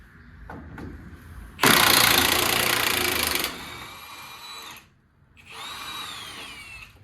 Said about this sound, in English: I'm just gonna put my impact on them